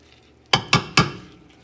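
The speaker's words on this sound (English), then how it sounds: "So I'm just going to stir all this stuff in." Three quick knocks of a spoon against a pot sound as ingredients are stirred into a Portuguese kale soup, close and sharp, each followed by a short ring, with no voices.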